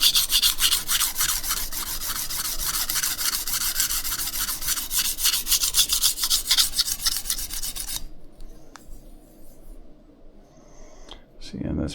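Knife edge drawn across a sharpening stone, a steady, close, rhythmic rasping that stops abruptly, followed by quieter handling sounds, with a person talking throughout.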